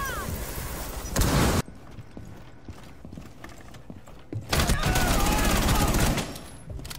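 Gunfire bursts in Rainbow Six Siege during a shield clash, with two loud sustained volleys separated by a quieter stretch of scattered shots, mechanical clatter and faint talk.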